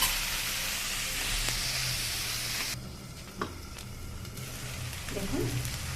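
Water lily (shapla) fried in oil in a pan gives a soft, steady sizzle that suddenly drops lower partway through. A few quiet scraping stirs follow, with faint knocks near the end.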